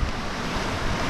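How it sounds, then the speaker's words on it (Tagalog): Ocean waves at a fishing spot on a calm day: a steady, broad wash of surf mixed with wind noise across the microphone, continuous and unbroken with no voices. "Sakto lang ang alon, tapos kalma rin yung panahon."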